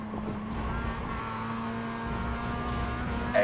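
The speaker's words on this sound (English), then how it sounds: "listen to the engine out of this corner here" Race car engine in a Formula RX8 esports racing game accelerating out of a corner, a steady high-pitched whine at moderate level that holds through the short stretch.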